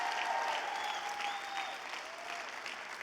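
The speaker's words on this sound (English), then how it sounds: "Let's give them a big round of applause for representing us today" At a Latino and immigrant Senate candidate forum in California, an audience gives steady applause, a broad even rush of many clapping hands heard at a moderate distance, fading slightly toward the end.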